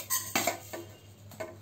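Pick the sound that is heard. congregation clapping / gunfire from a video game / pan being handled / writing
pan being handled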